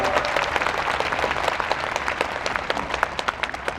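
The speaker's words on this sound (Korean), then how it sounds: "저런 일은 진짜로 여러분 박수 한번 쳐주셔야 됩니다." An indoor audience claps in a dense, steady burst of applause, close and fairly loud, with no talk over it.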